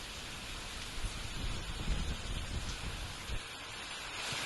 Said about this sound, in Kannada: ಗ್ರಾಮೀಣ ಭಾಗದಲ್ಲೂ ಕೂಡ ಮಳೆ ಜೋರಾಗಿ ಆಗ್ತಾ ಇದೆ.